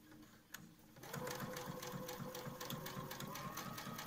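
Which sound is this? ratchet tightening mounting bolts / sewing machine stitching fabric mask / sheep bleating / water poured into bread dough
sewing machine stitching fabric mask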